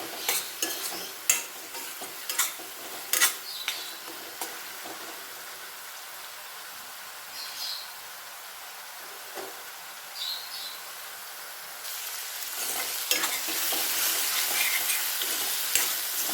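Masala frying in a pan for mutton curry, a soft steady sizzle with scattered clinks of a spoon stirring against the pan, growing louder and denser toward the end, with no voices.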